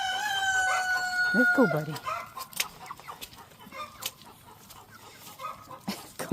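A farm chicken stuck in mud on an early spring day gives a loud, drawn-out crowing call at the start, then quieter scattered clucks and rustling while a person talks nearby.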